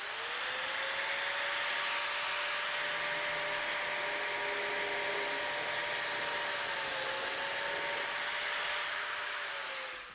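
A biscuit joiner cuts a slot for a number 0 biscuit in a miter joint of an outdoor table, its motor a steady high-pitched whine that holds for about ten seconds with a slight dip in pitch partway through.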